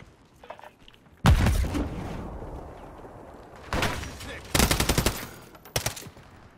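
Automatic gunfire rattles in Call of Duty: Modern Warfare 3, a loud close burst followed by several more sustained volleys and short bursts, with faint game voices in between.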